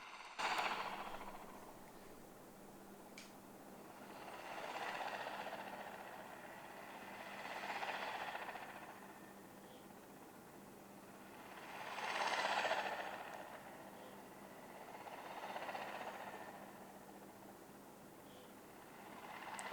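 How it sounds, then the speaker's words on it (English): Helicopter in the Nintendo Switch 2 Welcome Tour video game, heard as a faint, steady whir that swells and fades in repeated waves, with no voices over it. "It's a helicopter."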